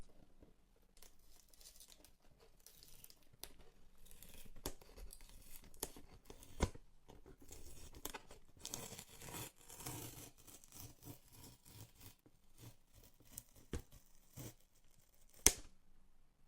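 Quiet crinkling and tearing of thin plastic film, irregular rustles and small snaps close by, with one sharper rip near the end.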